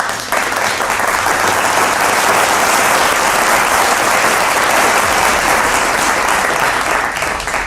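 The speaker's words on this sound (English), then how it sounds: "A huge round of applause," An audience at a CEO felicitation event claps loudly and steadily, a dense sustained applause for the full length.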